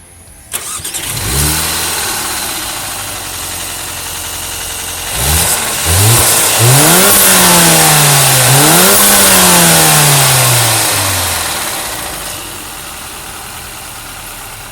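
Mercedes-AMG A35 with a 2.0-litre turbo engine starting up with a sharp crank and catch, then settling to idle before several rising and falling revs, loud and close, easing back toward idle at the end.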